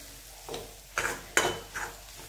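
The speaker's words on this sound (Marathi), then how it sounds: "छान असं बेसन पीठ शिजलं पाहिजे, त्यामुळं परतून घेणं गरजेचं" Radish leaves stir-fried with gram flour in a pan, heard as a few distinct scraping strokes of a spoon against the pan, spaced irregularly over a low, steady sizzle, close and moderately quiet.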